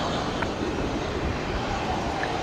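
A Boeing 777 departing Brisbane Airport gives a steady, broadband roar of jet engines, fairly close and continuous throughout, with no talk over it.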